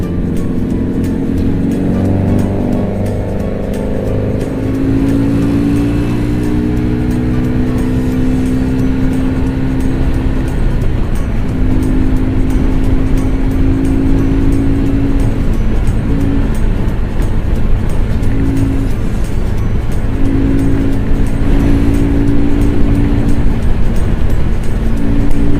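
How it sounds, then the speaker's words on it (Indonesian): Loud car exhaust droning and roaring on a busy main road, recorded from a motorbike ride, with engine tones rising and falling over a steady road rumble throughout. "Knalpot mobil mantap woy."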